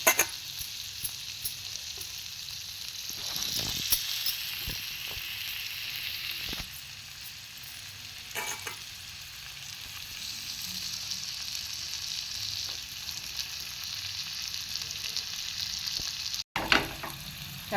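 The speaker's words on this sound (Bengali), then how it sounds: "হালকা ভাজা ভাজা করে নেব, খুব বেশি ভাজবো না।" Chopped fenugreek leaves frying in butter for methi chicken, a continuous close sizzle with a few stirring scrapes here and there and no voices.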